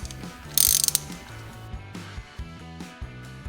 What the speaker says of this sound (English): going real easy tightening these bolts down